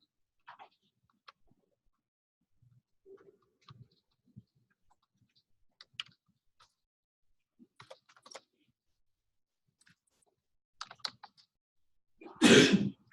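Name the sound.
sneeze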